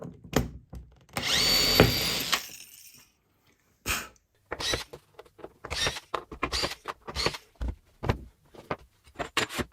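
A drill bores 3mm holes into an MFT workbench top, with a sustained whine of drilling followed by a rapid series of short, sharp bursts as hole after hole is cut, close and loud with no talk.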